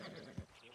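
A single short, faint horse whinny from the video game Red Dead Redemption 2, heard once and quickly fading.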